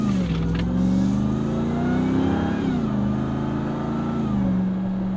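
A supercharged 2022 RAM TRX pickup truck accelerates up to a 45 mph road speed, its engine note rising and falling steadily under cabin and road noise, heard from inside with no talking.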